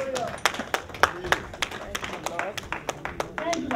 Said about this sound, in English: Thank you for those people that are clapping.